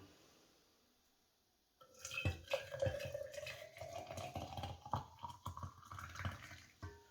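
Hot liquid pours steadily into a glass jar of porcini mushrooms, a gurgling, splashing stream that rises in pitch as the jar fills, after a quiet start.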